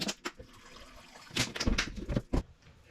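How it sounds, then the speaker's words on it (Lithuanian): Water is poured over chopped apple, celery and cucumber in short, faint splashing bursts, followed by a louder run of gurgling pours near the end. "Užpilu viską vandeniu."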